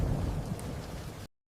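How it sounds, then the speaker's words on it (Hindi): A deep rumble of thunder with a steady wash of heavy rain, loud and close and continuous for just over a second before cutting off abruptly, with no voices. "तभी बादल गरजने लगे और जोरों की बारिश शुरू हो गई।"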